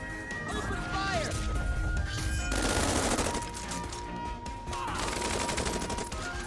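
Infantry gunfire in the strategy game Tiny Metal: rapid bursts of rattling shots and crashing impacts, loud and close, layered over game music, with a voice speaking partway through.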